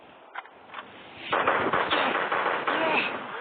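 Rapid gunfire from the zombie video game Flat Zombie, starting with a couple of faint shots and then swelling into a dense, continuous barrage of overlapping shots.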